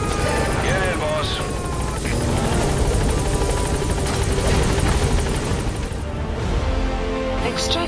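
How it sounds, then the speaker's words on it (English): Support helicopter arriving in Metal Gear Solid V, a loud close rotor roar with pulsing blade chop and engine whine, under game voices talking. "Support helicopter has arrived."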